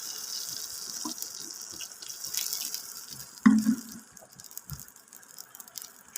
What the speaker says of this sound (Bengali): সামান্য একটু কষিয়ে জল দিয়ে দিয়েছি।